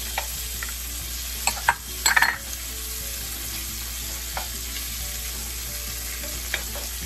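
Liver and garlic frying in a pan, a steady low sizzle running throughout with a few sharper crackles and stirring clatters near the middle, heard up close with no talking.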